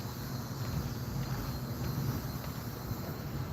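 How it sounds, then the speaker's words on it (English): Cicadas drone steadily at nightfall during an outdoor walk, a continuous high buzzing held in the background over low rumbling ambient noise. "One of the signs of nightfall when you hear those cicadas in the background."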